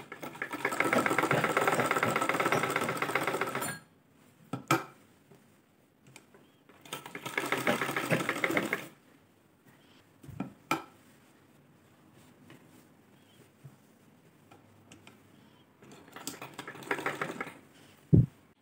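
An ordinary sewing machine stitches cut work in three separate bursts of fast, whirring, rattling stitching. Each burst lasts a few seconds, with quieter pauses and a few small clicks between them.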